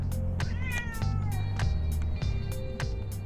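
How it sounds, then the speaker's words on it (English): A cat meows several times in a row, close and clear, its calls rising and falling over a steady low indoor hum, with no talking. "And a kitty."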